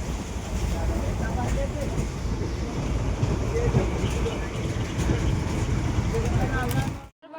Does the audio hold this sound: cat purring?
no